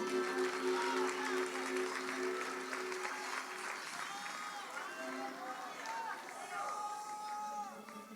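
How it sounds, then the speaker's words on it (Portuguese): A church congregation applauds during an evening service in a steady, continuous wash of clapping that lasts several seconds, with crowd voices and shouts mixed in throughout. "Aplauda o nome dEle."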